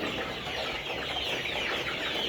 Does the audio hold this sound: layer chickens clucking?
yes